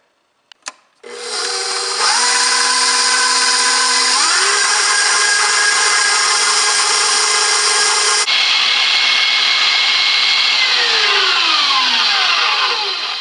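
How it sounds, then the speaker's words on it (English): A KitchenAid stand mixer whipping egg and sugar starts after a couple of clicks, then whirs loudly and steadily, its motor pitch stepping up twice as the speed is raised and sliding back down near the end, with no talking. "And I'm gonna use my KitchenAid mixer."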